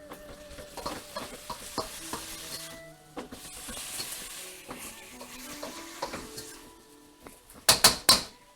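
Chow mein noodles stir-fried in a wok at home, close sizzling with a busy run of scraping and tossing, ending in a few loud sharp clanks of metal.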